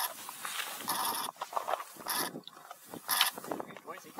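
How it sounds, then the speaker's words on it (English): An operational outdoor instrumentation system that has stood in place for a long time cycles through its filters, giving a noisy run of mechanical whirring, clunks and ratcheting bursts that come and go, close and fairly loud, with no talk. "Now it's cycling through the filters."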